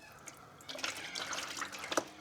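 Red fluid pours and splashes out of a car's removed pan, a soft, uneven trickle and drip close by with no talk.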